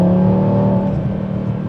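An Audi RS3 fitted with an AWE SwitchPath valved exhaust accelerates, giving a loud, steady, droning engine and exhaust tone that holds without a break for nearly two seconds.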